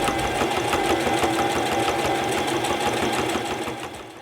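A Brother Strong & Tough sewing machine stitching through four layers of fabric, a steady fast mechanical chatter of the needle running continuously at close range, then easing off at the end.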